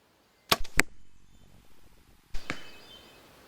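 A compound bow shot at a target outdoors: a sharp release twang and snap, a short whoosh, then after a pause the clear thunk of the arrow striking, fairly close over faint wind.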